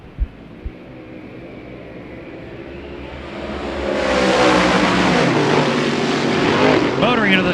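Modified race cars at Delaware roar into a turn during a heat race, engine noise swelling louder and nearer after a quieter start, with a couple of sharp knocks early on.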